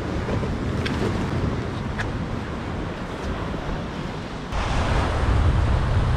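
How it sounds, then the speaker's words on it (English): Loud sea swell surging and breaking against a rocky UK shoreline, a continuous broadband wash with wind buffeting the microphone, swelling into a heavier crash near the end. "Oh, that's quite a big wave."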